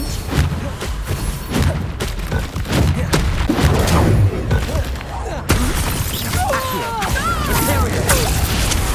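Confringo blasting spells exploding in the video game Hogwarts Legacy: a dense, continuous barrage of booms, shattering crashes and thuds rolls on throughout, with a voice calling out partway through amid the din.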